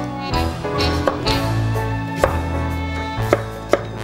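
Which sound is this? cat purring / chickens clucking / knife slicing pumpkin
knife slicing pumpkin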